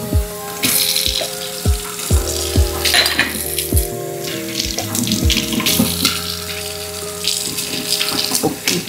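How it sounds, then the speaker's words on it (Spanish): Water pouring into dry masa for chilaquiles in a home kitchen, a steady splashing stream with wet hissing and intermittent thuds and knocks, loud and close. "Déjame le pongo el agua."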